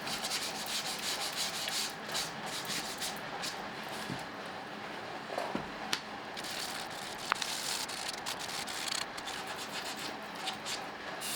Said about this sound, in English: I switched to hand sanding